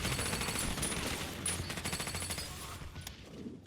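Dense, rapid anti-aircraft gunfire in the Hearts of Iron 3 strategy game, shooting at German bombers, a continuous rattling barrage that softens slightly toward the end, with no speech.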